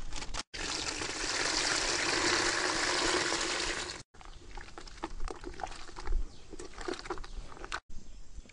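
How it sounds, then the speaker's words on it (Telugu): Pulse flour mixed with water is poured from a bucket into a large drum of water, cow dung and cow urine, a steady splashing pour for about three and a half seconds followed by softer drips and trickles. "ఇప్పుడు పప్పు దినుసుల పిండిని మనం 2 లీటర్ల ఈ బకెట్లో నీళ్ళలా కలుపుకొని అలా పోసుకుందాం"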